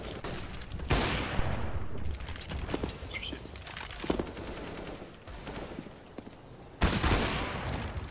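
Gunfire in a shooter video game, with dense bursts of rapid shots throughout, including automatic fire and a loud sudden burst near the end.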